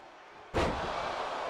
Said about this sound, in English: Scooped and slammed.